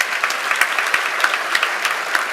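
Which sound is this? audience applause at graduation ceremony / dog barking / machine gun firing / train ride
audience applause at graduation ceremony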